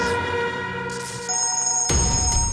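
Telephone bell ringing in a Hindi TV crime serial, a bright electronic ring with steady high tones sounding alone, growing louder and busier toward the end.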